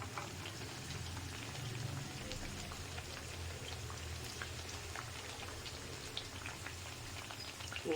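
Vada frying in hot oil, a steady, soft crackling sizzle with scattered pops, even and continuous throughout.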